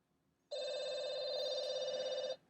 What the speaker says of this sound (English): I'll call this phone now